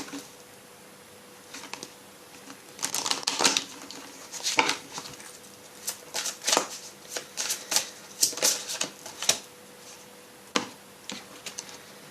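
Oracle cards are shuffled by hand nearby in a quiet room, giving a string of soft, papery riffling bursts in an uneven rhythm that pause briefly between shuffles.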